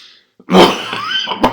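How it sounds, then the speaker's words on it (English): A single harsh, close, loud human cough bursts out after a brief silence, followed by a rough throat-clearing tail and a second sharp catch near the end. "Excuse me for this cough."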